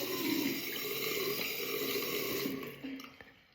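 Plain water splashing and trickling during a face-rinsing routine, a steady close wash that tapers off near the end with a few drips.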